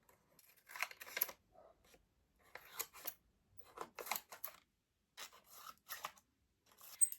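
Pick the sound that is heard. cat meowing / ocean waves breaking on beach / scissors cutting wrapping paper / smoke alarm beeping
scissors cutting wrapping paper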